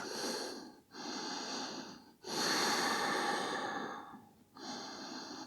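Slow, deep breaths drawn during a crown chakra meditation and yoga session, three long breathy cycles with short pauses between, heard close and fairly loud with nothing else around them.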